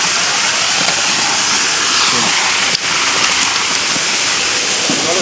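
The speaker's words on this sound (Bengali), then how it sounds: "জলের ঢলটা এমনি বেরিয়ে যাবে।" Water gushes out at a fish pond in a loud continuous rushing hiss, steady and close, with a brief dip partway through.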